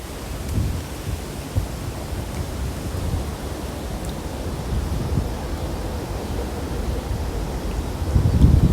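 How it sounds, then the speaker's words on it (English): Strong gusting wind ahead of rain rushes and roars steadily outdoors, a dense low rumble building louder toward the end, with no talking. "It is about to rain. And it's windy."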